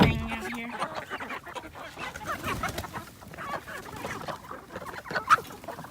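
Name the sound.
chickens clucking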